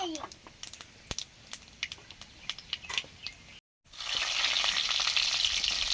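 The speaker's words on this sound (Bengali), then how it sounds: "এবারে ঝিঙে বাটার জন্য ঝিঙেটা আগে ভেজে নেব। সর্ষের তেল, কালো জিরে," Black cumin crackles in mustard oil with scattered pops, then chopped ridge gourd drops into the pan and a loud, dense sizzle takes over and holds steady up close.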